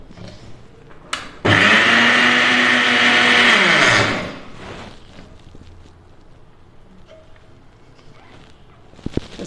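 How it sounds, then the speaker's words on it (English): An electric grinder runs for a couple of seconds, grinding rice into fine flour with a loud steady whirring drone, then winds down into quiet scraping and handling noises. "I'll be grinding it fine because I'm not going to sieve the powder"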